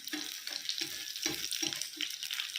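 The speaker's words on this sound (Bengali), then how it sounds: "চলো আগে ভেজে নিই।" Pakoras frying in hot oil, a continuous bubbling sizzle with rhythmic low stirring or scooping sounds repeating roughly every half second, close and moderately loud.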